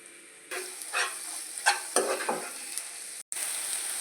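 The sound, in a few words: masala frying in a pan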